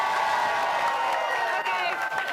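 A live audience on an Oklahoma Sooners sports program lets out a sustained, loud cheer with whoops and some clapping mixed in, holding steady for a couple of seconds.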